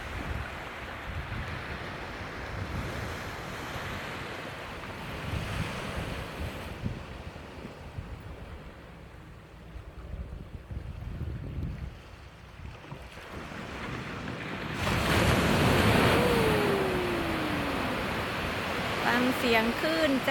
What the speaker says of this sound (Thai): ฟังเสียงคลื่นจ้า